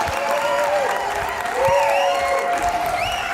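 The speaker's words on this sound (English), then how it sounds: "Can we all give him a round of applause?" Audience applause and cheering greet a comedian taking the stage at a live comedy show, steady broadband clapping with whoops and shouted voices riding over it, loud and sustained throughout.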